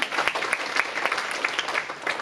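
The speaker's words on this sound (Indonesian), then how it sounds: "ayo kita beri tepuk tangan buat firman Tuhan" Church congregation applauding during a worship service, a steady, dense burst of clapping from many hands with sharp individual claps standing out, continuous for the full stretch.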